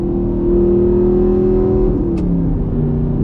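A 2014 Audi R8 with the 4.2 V8 and gated manual gearbox drones loudly from inside the cabin, holding a steady revving tone that rises, then dips and shifts near the end, with no talk.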